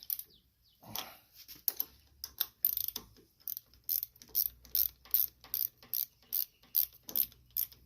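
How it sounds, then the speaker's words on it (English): A hand ratchet tightening bolts on a Craftsman LT2000 riding mower: a few uneven clicks at first, then a steady run of sharp, evenly spaced ratcheting bursts about every half second, close and clear with no speech. "Now we're going to tighten our bolts down."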